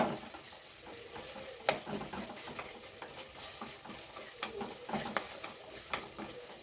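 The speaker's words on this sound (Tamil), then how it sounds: "இது கூட தக்காளி போட்டு வதக்கணும்." Eggplant and tomatoes sautéing in a pan for a village-style dried fish curry, a faint, steady sizzle with light stirring scrapes and occasional utensil taps.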